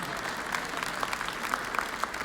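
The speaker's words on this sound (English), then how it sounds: "let's give him a round of applause anyway" A round of applause from the audience at the Miss Indian World 2019 pageant in Albuquerque, New Mexico: sustained crowd clapping with scattered louder individual claps, filling the room evenly.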